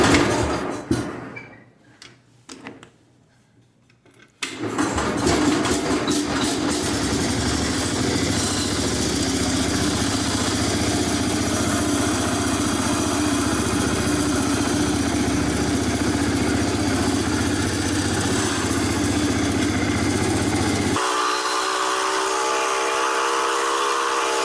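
A Cub Cadet lawn tractor's Kohler K series engine catches after a few quiet seconds and runs steadily and loudly nearby, a constant rough broadband roar with a low throb, shifting tone near the end.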